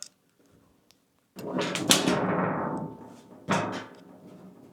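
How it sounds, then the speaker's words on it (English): A metal battery cabinet door rattles and clanks during assembly of a Vatrer 4U battery cabinet, a sustained loud rattle followed by a second sharp knock, close by. "So the rattle that you're hearing is this last door we have to do."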